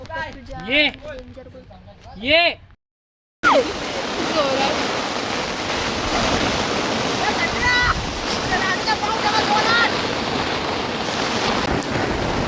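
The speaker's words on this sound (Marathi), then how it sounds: "जोराचा पाऊस" Heavy rain roars as a dense, steady wash of water noise; people talk and exclaim over it at first before a brief gap, then the downpour continues alone and loud.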